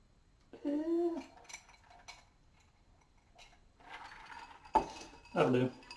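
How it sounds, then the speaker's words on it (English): Bojangles Hard Sweet Tea from Appalachian Mountain Brewery poured over ice above a sink, with a few close, sharp clinks of ice and glass and short splashing bursts separated by quiet gaps. "I'm going to pour this one over the sink"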